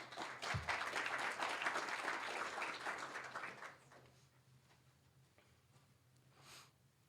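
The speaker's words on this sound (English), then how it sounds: "Please give a nice warm round of applause for Jeremiah Cornell." Audience applause for a finalist at a 2010 regional idea pitch competition, a dense, steady clapping that carries for about four seconds before fading away into quiet room tone.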